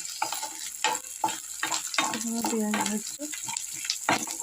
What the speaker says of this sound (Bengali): চিকেনের জন্য কি ফার্স্টে পেঁয়াজগুলো ভেজে রেখে দিচ্ছি